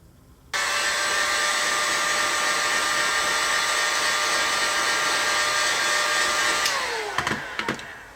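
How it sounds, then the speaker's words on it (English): Heat gun blowing hot air to soften ABS plastic rose petals, a steady loud whirring fan hiss that starts abruptly, holds for several seconds, then winds down with a few light knocks. "use a heat gun and gently heat it and then bend it over as we see fit to finish shaping the top of our rose"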